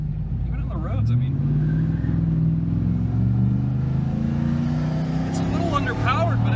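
A Ford F150 pickup truck drives along gravel and paved roads, its engine giving a steady, close, low rumble that rises slightly in pitch as it moves, with someone talking over it.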